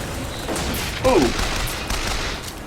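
Rapid gunfire rattles in Bioshock Infinite as a dense, steady volley over a busy game soundscape, moderately loud, with a brief voice near the middle.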